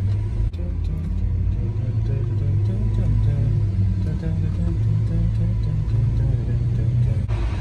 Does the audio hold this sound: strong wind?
no